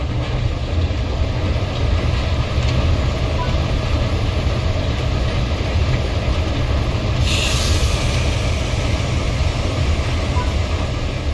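A train in Train Sim World 3 rumbles along the rails as it slows toward a stop, a steady loud low rolling drone with faint wheel squeal, a brief hiss near the end.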